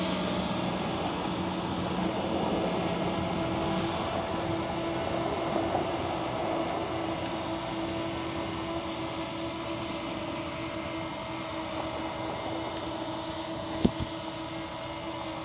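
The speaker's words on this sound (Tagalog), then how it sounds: "Ayun, lumipad na si drone natin." A drone flying over a farm with apple and cherry trees produces a steady, unchanging motor whine with a constant tonal hum, broken only by a brief click near the end, with no voices.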